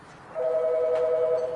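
A telephone rings in a busy auto repair shop during axle and strut work on a third-generation Chevy Silverado, sounding as a single sustained electronic tone lasting just over a second over low shop noise.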